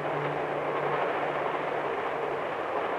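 A passenger train running along tracks cut into a mountainside, a steady broadband rumble with a faint low hum, even and continuous throughout.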